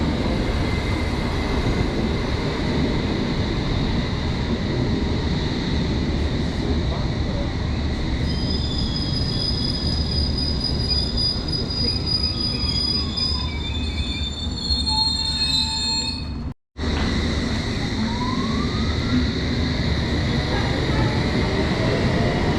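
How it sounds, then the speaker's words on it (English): A London Underground Metropolitan Line train from Aldgate to Chesham passes by. It makes a loud, sustained rumble with high, shrill wheel squeals that rise and fall, and the sound cuts off briefly near the end before the roar returns. "here's a Metropolitan Line train going the other way, this one to Chesham"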